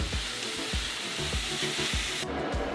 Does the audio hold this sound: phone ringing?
no